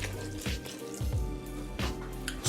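Water poured into a bowl of flour, oil and salt for homemade pita dough, heard as close splashing and dripping over a few seconds.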